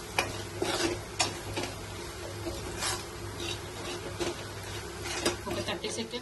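Eggs with salt and chili powder being stirred in a pan, with continuous close scraping and rubbing of a spoon against the metal over a steady low sizzle, punctuated by a few sharper clinks.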